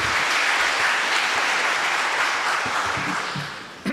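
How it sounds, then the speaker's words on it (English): A graduation ceremony hall fills with dense, sustained applause from a large crowd, steady and loud throughout before tapering slightly at the end. "please give a round of applause for the Vice Rector of Teaching, Dr. Professor Łukasz Machaj."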